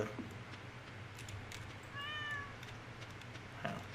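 A single short meow from a cat in the Stardew Valley video game sounds faintly over quiet game background ambience.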